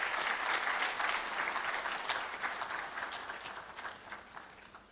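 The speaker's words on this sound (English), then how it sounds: "As she takes her seat, please let's continue to applaud her." An audience applauds at the opening ceremony of a tenth-anniversary research conference, dense clapping filling the hall and slowly fading over a few seconds.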